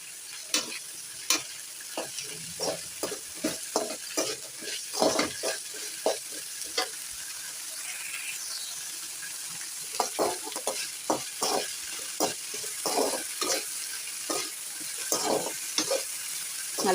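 Pirandai (adamant creeper) sautéed in a pan, with a soft, steady sizzle broken by many sharp scraping and tapping strokes of a stirring utensil, arriving in quick clusters throughout.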